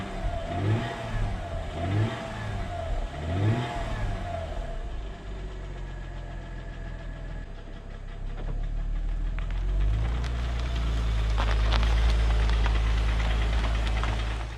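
A Mercedes engine that burns oil idles with a rhythmic knocking, then revs up into a louder, rougher roar.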